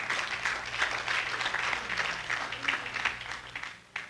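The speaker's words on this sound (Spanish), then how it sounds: "dele un aplauso al Señor" A church congregation claps together in praise, steady moderate applause from a crowd, continuous and fairly even before trailing off.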